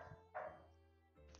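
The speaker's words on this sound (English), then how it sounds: "I apologize for the dog if you can hear her." A pet dog indoors gives a few short yips and whimpering barks, soft and somewhat distant, in brief bursts with quiet gaps between.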